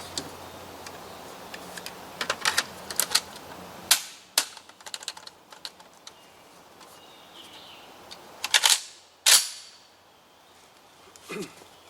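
A Colt SP1 AR-15 carbine fires outdoors on a range, a few loud sharp cracks spaced irregularly, with small mechanical clicks and handling noises in between.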